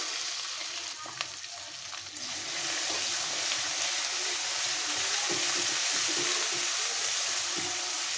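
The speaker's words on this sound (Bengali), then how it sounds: "দিয়ে দিব আমি এখানে সম্পূর্ণ মশলাটা, দিয়ে দেবো রসুনের কোয়াগুলো" Whole spices and garlic cloves hit hot oil in a pan, producing a loud, continuous sizzle that swells after a couple of seconds and holds steady, with faint stirring scrapes underneath.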